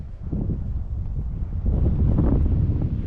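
Wind buffets the microphone beside a dam reservoir, a continuous low rumbling gusty roar that grows slightly stronger midway.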